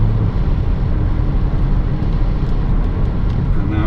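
A car accelerates gently up to the national speed limit on a country road, a loud continuous engine and road rumble heard from inside the cabin.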